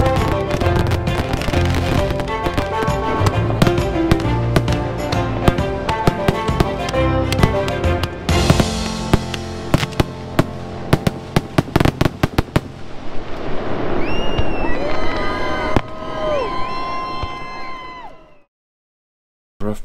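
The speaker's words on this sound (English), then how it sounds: "So Martin's up with Julian, he's gonna watch the fireworks show from the balcony of the hotel" Dense barrage of fireworks bursts at a nighttime show, loud and near, with rapid overlapping bangs and crackles, then a few whistling rockets and scattered pops from a watching crowd before it falls silent.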